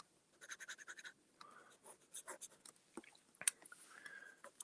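Firm Triumph nib pen scratching across paper in quick strokes, bursts of short rhythmic scrapes with brief pauses between, close and quiet.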